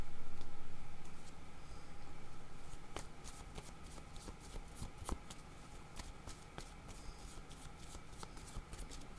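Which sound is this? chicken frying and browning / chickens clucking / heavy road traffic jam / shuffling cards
shuffling cards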